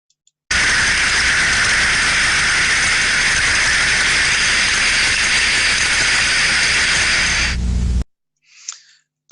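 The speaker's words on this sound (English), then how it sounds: "here is an example of a failed inverted bucket trap" A failed inverted bucket steam trap heard through an ultrasonic detector gives a loud, steady rushing hiss of turbulent flow that holds for about seven seconds, then cuts off sharply, leaving a brief faint trailing sound.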